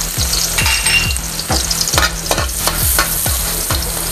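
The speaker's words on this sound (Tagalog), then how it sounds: "Gisa na tayo ng bawang." Garlic sautéing in a pan for beef pochero, a loud steady sizzle broken by rhythmic stirring strokes roughly every half second, with no talking.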